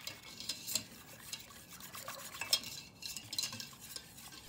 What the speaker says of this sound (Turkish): Çırpma teliyle çırparak nişasta ve unu inceltiyorum.